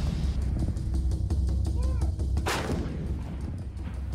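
Artillery fire from an M777 howitzer in the Russia–Ukraine war, with a sharp blast cutting through steady background noise, a brief whistling tone just before, and voices talking faintly under the noise.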